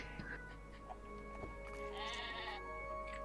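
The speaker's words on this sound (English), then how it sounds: "The sheep is cooking itself on the campfire." Sheep bleating in the Craftopia video game, a few short bleats over a low game soundscape with a faint crackling campfire and a steady tonal hum, fairly quiet and without talk.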